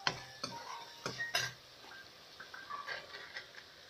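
A spoon scrapes and clinks against a pan while onions, green chilies and tomatoes are stirred together, a few light knocks near the start and then softer scraping, quiet and close with no talking.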